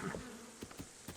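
Bees buzzing in the video game Zelda: Breath of the Wild, a faint, brief, steady insect drone heard on its own with no talk.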